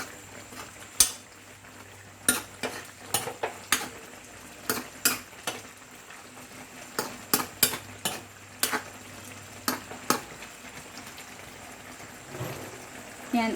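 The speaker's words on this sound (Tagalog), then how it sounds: "Haluin lang natin ng panandalian." A utensil stirs adobong sitaw with ground pork and brown sugar in a pan, tapping and scraping the metal in irregular clacks over a soft sizzle, with a brief quieter stretch near the end.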